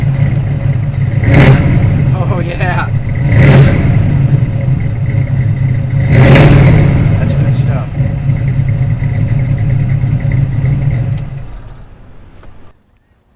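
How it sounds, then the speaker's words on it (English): A 1966 Chevy II Nova with a solid-lifter 327 high-performance V8 revs loudly and close by, with three strong throttle blips over a lumpy idle before the sound cuts off. Someone speaks briefly. "when you turn this key and you hear that solid lifter 327."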